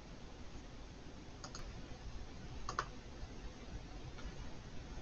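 A computer mouse gives a few faint, separate clicks against quiet room tone, with no one talking.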